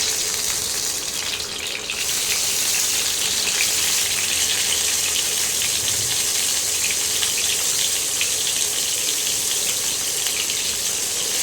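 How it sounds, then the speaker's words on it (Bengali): Five eggs fry in hot oil for an egg curry, making a dense, continuous sizzle that stays loud and even throughout, heard up close with no voices. "এবারে তেলটা গরম হয়ে গেছে, আমি ডিমগুলো ছেড়ে দিই।"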